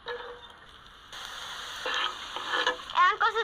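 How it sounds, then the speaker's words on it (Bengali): Onion and garlic frying in hot oil give a steady, moderately loud sizzle, with stirring clatter and scraping building up near the end. "তেল গরম হয়ে গেছে আন পেঁয়াজ রসুন কষি দিয়ে দিম"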